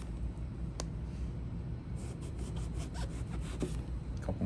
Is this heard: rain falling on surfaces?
no